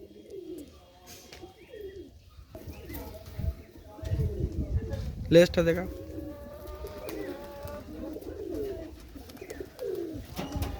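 Giribaz-line pigeons coo repeatedly at close range, their low rolling calls running through most of the stretch while someone talks over them and handles the birds.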